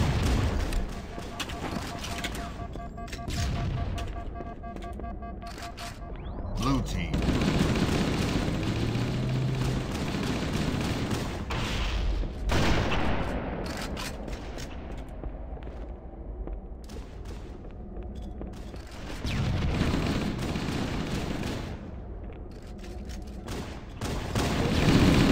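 Gunfire and explosions from the Halo CE multiplayer match, heavy bursts of shots and booms recurring throughout, loud and continuous with dense in-game action.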